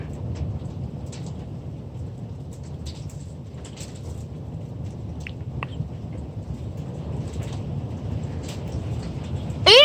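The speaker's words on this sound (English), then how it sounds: "Wow, it is pouring out here." Heavy rain pours steadily outdoors during a thunderstorm, a dense continuous wash of noise with faint scattered ticks, ending with a brief loud burst.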